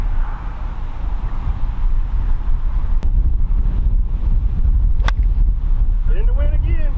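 Wind buffets the microphone steadily on a golf course, a low rushing roar that persists throughout, with a couple of faint clicks and brief speech near the end.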